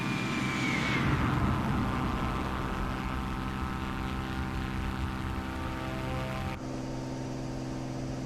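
Propeller engine of a Cessna Corvalis light aircraft in Microsoft Flight Simulator 2024, a steady droning hum with a falling whine early on, running continuously and close, with a slight drop in tone near the end.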